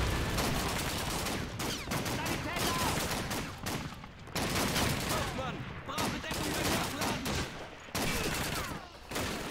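Sustained gunfire from Call of Duty 2 in Stalingrad, with dense, rapid shots and machine-gun bursts that keep going almost without a break and drop out only briefly, set in a loud, chaotic battle.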